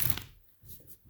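Tarot cards shuffled by hand, giving a short riffle at the start and then quieter soft rustling and tapping, close and faint, with no talking.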